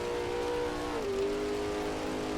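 Vintage 1939 Grand Prix race car engine in the Assetto Corsa racing game, a steady, loud tone that dips in pitch partway through like a gear shift, then carries on at a lower drone.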